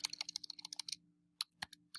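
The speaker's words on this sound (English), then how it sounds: "you can type in Schoology" Quick typing on a Chromebook keyboard, a close, fast run of light plastic key clicks, a short pause, then a few more taps, alone with no talk.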